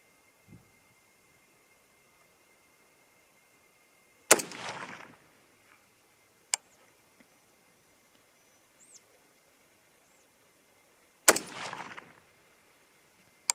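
.243 Winchester rifle loaded with IMR 4350 fires two loud, sharp shots several seconds apart outdoors, each followed by a short rolling echo, with faint clicks between.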